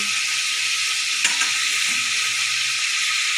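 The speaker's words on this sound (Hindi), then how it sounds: "इसमें मैं ये क्यूब डालूँगी लहसुन अदरक का, और साथ ही मैं इसमें डालूँगी टमाटो प्यूरी" A garlic-ginger cube and tomato puree hit a hot pan for a bhindi dish, giving a loud, steady, close sizzle with one brief clatter partway through.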